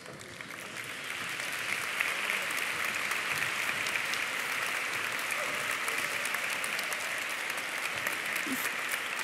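Audience applause at a university graduation ceremony for engineering graduates, rising over the first two seconds into a sustained, fairly distant patter of many clapping hands.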